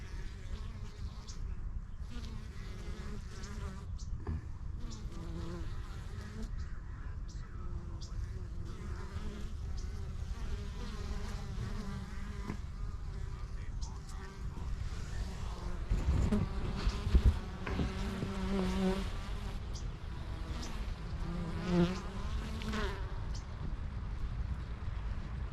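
Honey bees hum steadily at the hive entrance, a dense, continuous swarm buzz with individual bees droning close to the microphone as foragers return with baskets full of pollen.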